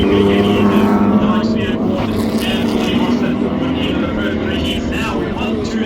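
Super saloon racing cars at a heat race start, engines roaring as a dense, continuous drone under commentary, loud and steady throughout with a broadband rumble of several cars together.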